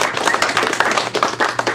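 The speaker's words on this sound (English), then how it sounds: "Let's give that lady another round of applause for coming up and speaking." Audience applause for a speaker at a community meeting on Chicago gang violence: dense, steady clapping from a crowd, fairly close and continuous throughout, with no voices over it.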